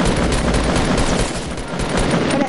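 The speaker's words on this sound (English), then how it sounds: "now they're getting shot at" Sustained video game gunfire rattles in loud, dense, overlapping bursts for the full stretch, sounding like a close fusillade with no pause.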